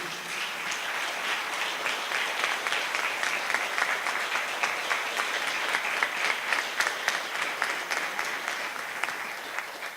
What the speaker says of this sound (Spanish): pudéssemos aplaudir com gratidão essas pessoas